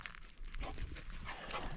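A dog barks a few times at a distance, faint and sharp, over rustling outdoor background noise.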